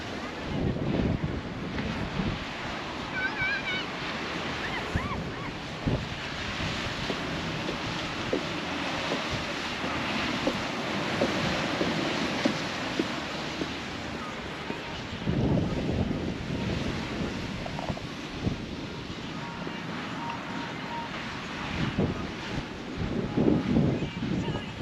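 Ocean surf rolling onto an Outer Banks beach with strong wind buffeting the microphone, a steady broad roar with periodic swells of louder wave wash and no clear voices.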